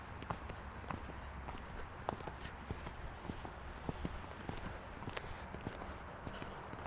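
Horse moving at a canter in a riding lesson, slowing from the gallop, with a steady run of soft hoof clip-clops over a low background rumble. The hoofbeats are faint and somewhat distant.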